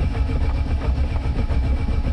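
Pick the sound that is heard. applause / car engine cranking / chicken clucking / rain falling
car engine cranking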